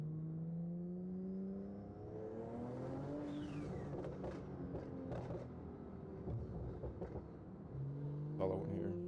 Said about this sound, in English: I want to be listening to that exhaust